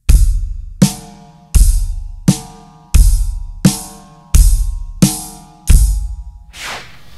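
Basic beginner drum-kit groove on hi-hat, kick and snare, looped about eight times in a steady rhythm, each strike loud and close with a short ringing decay, played alone without talk.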